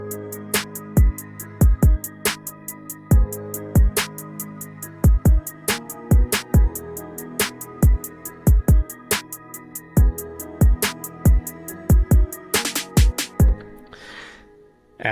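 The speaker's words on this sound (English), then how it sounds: "So I came up with a kick pattern." Kick drum pattern for a dark Memphis-style beat, with punchy low thumps in a syncopated, repeating rhythm played alone and upfront, ending in a quick flurry of hits.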